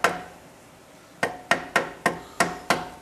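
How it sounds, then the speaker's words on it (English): A rubber hammer taps a GM alternator into place seven times in a fairly steady rhythm after a brief pause, each knock close and solid with a short ring. "Might need to persuade it a little bit with a rubber hammer to drop in there."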